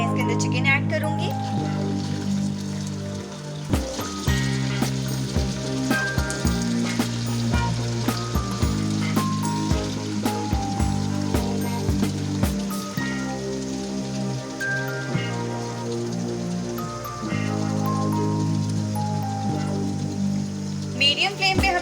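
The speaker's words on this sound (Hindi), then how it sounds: "मीडियम फ्लेम पे हम लोग चिकन को फ्राई करेंगे। तो अब मैं इसे फ्राई कर रही हूँ।" Chicken pieces fry in hot oil in a kadai over a medium flame, a constant loud sizzle heard under music with a strong repeating rhythm throughout.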